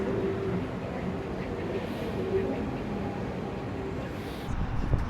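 A retro metro train on Istanbul's Metro Line 1 rumbles steadily nearby with a continuous low roar and a faint high whine, rising slightly at the end.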